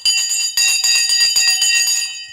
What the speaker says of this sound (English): There you go, the bell's gone.